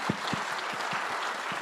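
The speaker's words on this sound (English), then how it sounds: "So I will invite you to give me a round of applause to our panelists." Applause from a conference audience for panelists at an international finance leaders' investment summit, a steady, fairly soft patter of many hands with a few louder claps rising out of it, heard from some distance.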